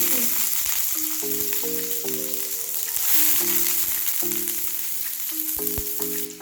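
Oil crackles and sizzles steadily in a frying pan while shrimp fried rice is cooked, with a constant close hiss and occasional sharper pops, and faint tonal background sounds beneath.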